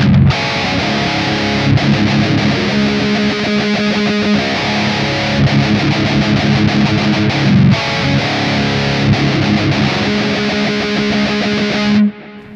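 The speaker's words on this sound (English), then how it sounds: "there's a lot of rhythmic chugging on this part, a lot of heavy palm muting" Distorted electric guitar chugs out a tight, heavily palm-muted rhythm part from a song, loud and driving with brief breaks, ending in a sudden stop, and nobody talking over it.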